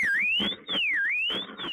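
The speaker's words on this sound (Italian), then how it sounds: "scatta l'allarme" A shop alarm wails in a rising and falling electronic siren, set off during an attempted break-in at a storefront, loud and steady, with faint thuds behind it.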